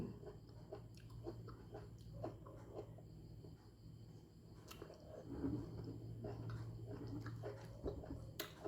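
Someone chewing rose apple close to the mic, soft wet bites and crunchy mastication in irregular bursts, quiet overall with faint murmurs between mouthfuls.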